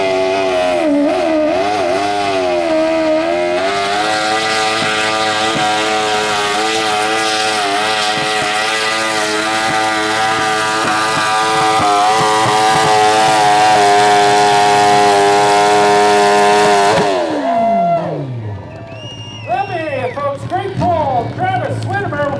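A modified lawn tractor fitted with a Ninja motorcycle engine screams at high revs through a long steady pull at a tractor-pulling event, then drops sharply in pitch and sputters as it winds down, with a voice talking over it.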